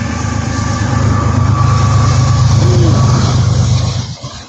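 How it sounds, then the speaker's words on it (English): A loud nearby train rumbles past with a steady roar and a faint high squeal, holding for several seconds before fading off abruptly, no voices over it. "Y'all hear the train?"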